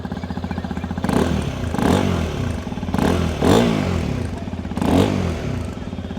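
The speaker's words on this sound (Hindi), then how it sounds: "एग्जॉस्ट नोट भी सुना देते हैं।" A motorcycle, a Hero Xpulse 210 or Suzuki V-Strom 250 SX, idles with a throaty, punchy exhaust, then revs sharply four times in quick bursts, each rising and falling back to idle.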